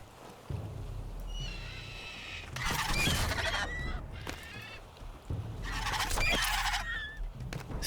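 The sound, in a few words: birds honking in a survival video game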